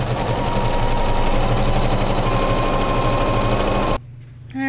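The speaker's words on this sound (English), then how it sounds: "I'm going to start the quilting" Computerized sewing machine quilting a swirl pattern on a pillow flange, a loud, fast, even motor hum with rapid needle chatter that cuts off abruptly near the end.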